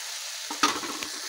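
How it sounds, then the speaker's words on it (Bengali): Ridge gourd frying in spice paste, a soft sizzle with a brief stirring scrape and a clatter near the middle. "ঝিঙেটা ভালোভাবে মশলার সঙ্গে কষিয়ে নিতে হবে।"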